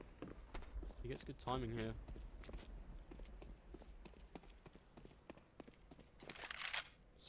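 Player footsteps in Counter-Strike: a rapid run of light, regular steps under excited commentary from a caster, with brief in-game clicks and a burst of louder noise near the end.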